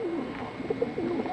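A pigeon, a racing hen among show birds in Ohio, gives a few soft, low warbling coos close by, with no talking.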